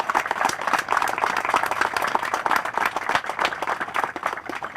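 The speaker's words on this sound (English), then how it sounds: "I think we owe them a round of applause at this time" Steady crowd applause at an outdoor Marine Corps memorial ceremony honoring an Honor Guard from the 8th and 9th Barracks, Washington, D.C.; dense, even clapping holds at moderate loudness for the whole stretch with no talking.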